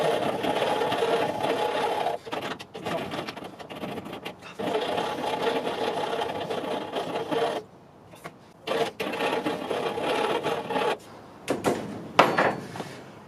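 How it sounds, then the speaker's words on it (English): A hand file rasps back and forth across a cut metal scooter handlebar, steady close scraping strokes with a few brief pauses near the end. "Try not to let the file slip out"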